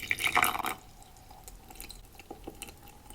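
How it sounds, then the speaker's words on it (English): Water poured into a mug for tea, a brief louder splash at the start, then faint, scattered drips and trickles in a quiet room. "I will pour this water into this mug"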